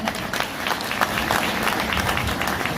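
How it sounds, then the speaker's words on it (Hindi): Dense applause from a crowd, many hands clapping at once, steady and moderately distant, with no speech over it. "एक बार जोरदार ताली मैं चाहूंगा सर।"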